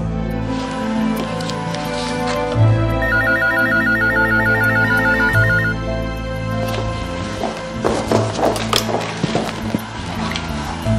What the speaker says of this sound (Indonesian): Ini telepon pasti buat aku.